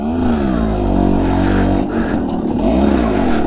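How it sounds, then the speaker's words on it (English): A 1976 Yamaha YB100 motorcycle pulling away in second gear, its small two-stroke engine droning loudly and close, pitch rising, dipping briefly, then climbing again. "that's me bollocksing up the gear. I'm starting in second gear there."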